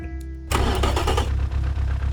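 In the video game Automation, a whirring starter cranks briefly before a loud 1400 hp four-cylinder engine catches and roars to life, settling into a rough, rumbling, aggressive idle.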